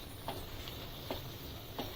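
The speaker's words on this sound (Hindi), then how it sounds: "जो बॉइल्ड हमारे मटर हैं उनको भी डाल देंगे, इनको भी अच्छे से मिक्स करेंगे" Peas and mushrooms are stirred in a pan over a steady sizzle, with a few soft spoon scrapes against the pan spaced out across the moment.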